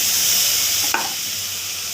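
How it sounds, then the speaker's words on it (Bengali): Rice fries in ghee with a steady close hiss and sizzle, and a single short scrape of stirring partway through, with no talk. "আমার চালটা একটু নাড়াচাড়া করে নেবো। ঘিয়ের বেশ একটা সুগন্ধি আসছে।"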